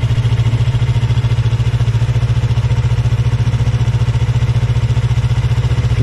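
A motorcycle rolls along at idle with the throttle closed, its engine putting out a steady, even low thrum with a fast regular pulse that stays unchanged throughout.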